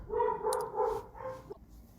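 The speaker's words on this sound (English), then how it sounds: "You might be able to hear my dogs barking right now." Several dogs bark at home in a quick run of loud, close woofs that break off abruptly at the end.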